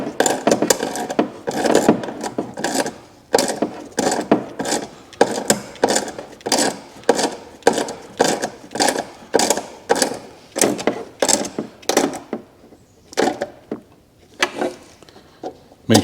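Screws are driven into a plastic air intake for a 2019-up GM truck or SUV, giving a steady rhythm of short, rasping turning and ratcheting strokes, close and fairly loud, with no talking.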